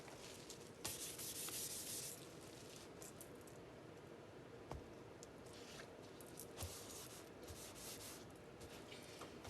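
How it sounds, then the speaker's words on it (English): Sandpaper rubs back and forth on a Gibson Les Paul guitar body under repair, a quiet, continuous close scratching with slight changes in stroke pressure. "Sand it a bit."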